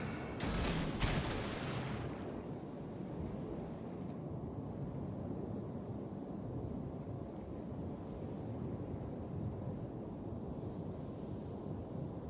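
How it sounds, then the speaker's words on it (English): Torpedoes launch in a World of Warships naval battle: a sharp burst of loud, crackling bangs in the first two seconds, then a steady roar of sea, wind and engine noise that carries on to the end, with no voices. "Shoot some torpedoes down at B, just in case somebody's trying to sneak in there."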